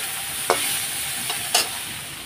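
Water added to a pan of frying okra, producing a steady close hiss with two brief louder bursts of sputtering.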